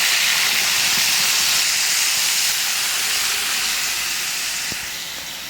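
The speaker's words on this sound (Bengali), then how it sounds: "এবারে তেলের মধ্যে আমি ফোড়ন দেবো, আর যা যা মশলা করে রেখেছি পেস্ট, সেই মশলাটা তেলের মধ্যে আমি দিয়ে দিচ্ছি।" Spice paste and whole-spice tempering tipped into hot oil while making an egg curry, giving a loud, steady hiss that holds through the clip and eases off slightly near the end.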